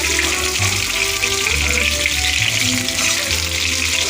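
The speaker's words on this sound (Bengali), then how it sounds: "এই যে লাল লাল করে আমি ভেজে নেবো।" Food deep-frying in hot oil until reddish-brown, a steady dense sizzle and crackle running loud and close throughout, with no voices.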